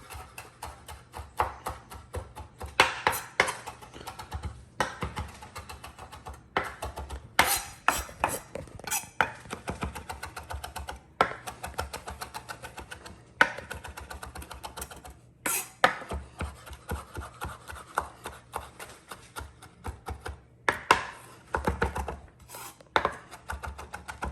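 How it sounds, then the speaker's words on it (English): Fresh rosemary, sage and thyme are chopped finely with a knife on a board for an herb butter blend for a smoked turkey. Rapid, uneven knife taps continue for a long stretch at close range. "rosemary, sage, and thyme, chopped up fine"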